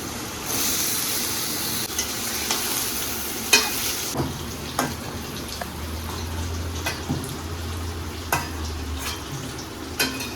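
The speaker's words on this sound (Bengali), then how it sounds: "আলুটা কিছু ভাজা হয়ে গেছে এবার আমি ওইখানে এঁচোড়টা দিয়ে দিচ্ছি" Raw jackfruit tipped into a pan of potatoes already frying in white oil, a continuous near sizzle with repeated sharp stirring and scraping clicks and a brief low bubbling swell midway.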